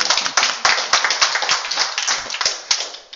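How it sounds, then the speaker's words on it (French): Audience applause at a French billiards youth challenge in Châtillon, a close, steady patter of many hands clapping with sharp irregular claps throughout. "on peut applaudir"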